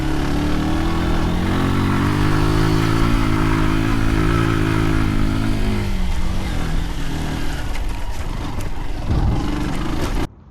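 A Zontes G1 125x scrambler motorcycle runs close and loud, its engine note holding steady, then easing off and rising again before cutting out abruptly at the end.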